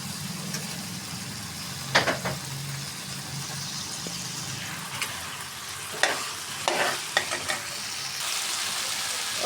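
Potatoes frying with tomatoes in a pan for aloo matar methi, a steady sizzle close by with a few scraping stirs and clacks of a spoon.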